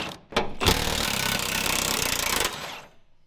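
A half-inch impact wrench spins bolts off the fifth wheel rails in a truck bed, one loud, close, continuous rattling burst lasting about two seconds before it stops.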